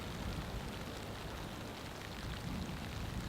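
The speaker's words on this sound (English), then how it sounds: "The mountain over here is becoming gray with rain." Heavy rain pours steadily during a storm at an off-grid mountain campsite, a dense, continuous hiss and patter that stays loud and even throughout, with no voices.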